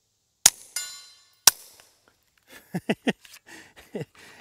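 A Kel-Tec P17 .22LR pistol fires subsonic ammo, two sharp close shots about a second apart, each with a short ringing tail, followed by a quick run of softer clicks and clatter.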